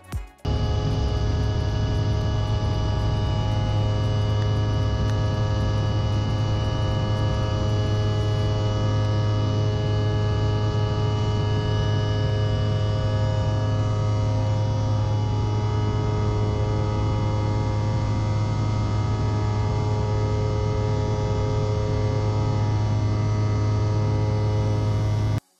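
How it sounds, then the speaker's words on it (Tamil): The overhead air vent in an airplane cabin blows over a steady, loud engine and cabin hum that carries on evenly, with no talk, on a roughly two-hour passenger flight from the USA to Canada. "ட்விஸ்ட் பண்ணோன்னா ஏர் நமக்கு ப்ளோ ஆகும்."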